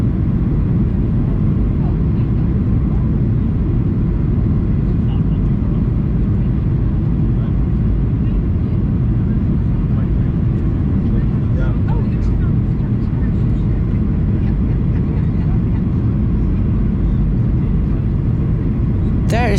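Inside the cabin of a Transavia Boeing 737-800 on approach to Madeira, a loud, steady low rumble and engine drone fills the whole stretch, with faint rattles riding on top.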